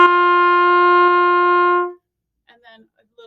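A trumpet holds a single steady G for about two seconds, a clear brassy tone with strong overtones played close, then stops and a short burst of speech follows.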